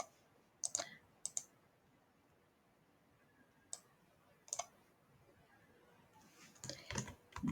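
Sparse keystrokes typing a short title on a computer keyboard in a Google Form: a few isolated clicks, then a quicker burst of taps near the end, close and fairly quiet over faint room hiss.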